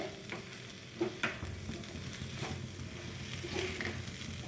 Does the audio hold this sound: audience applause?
no